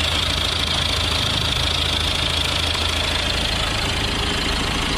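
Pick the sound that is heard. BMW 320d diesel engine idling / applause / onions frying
BMW 320d diesel engine idling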